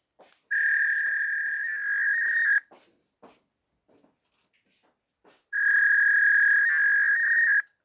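Electronic phone ringing in two long, steady warbling tones separated by a few seconds of near silence, heard clearly and close.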